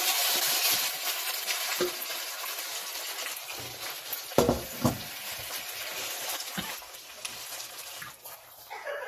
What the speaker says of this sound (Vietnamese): mình sẽ đổ thịt vào xào